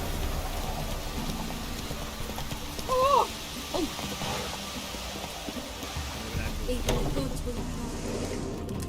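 A horse gallops in The Witcher III, its hooves beating in a steady rhythm under rainy ambience, with a short whinny partway through.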